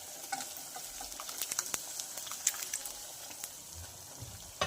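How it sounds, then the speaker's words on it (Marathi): Mashed ragda stirred into spices frying in a pan, a steady soft sizzle with scraping spoon strokes and occasional sharper clicks throughout. "त्यानंतर आपण यामध्ये मॅश केलेला रगडा घालणार आहोत।"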